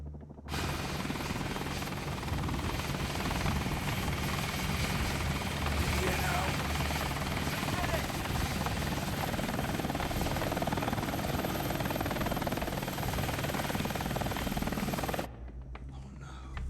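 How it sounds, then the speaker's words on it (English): A helicopter's loud, steady rotor roar continues for about fifteen seconds before cutting off abruptly, with faint voices underneath. "Is that a helicopter?"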